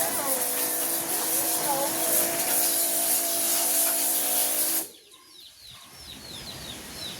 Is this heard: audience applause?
no